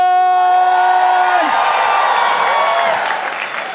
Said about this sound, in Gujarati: So the huge applause.